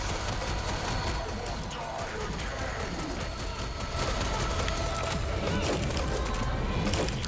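Rapid, dense gunfire from shooting in the video game Sprawl goes on continuously with a full, noisy texture, under a voice talking at moments.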